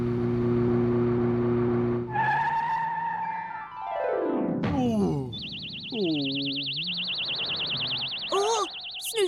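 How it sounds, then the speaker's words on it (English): Cartoon car braking hard, with a loud descending squeal of skidding tires sweeping down and then bouncy comic boing and chirp effects, all close and loud over an engine-like hum, with no talking. "that's because I braked suddenly and so you were thrown forward."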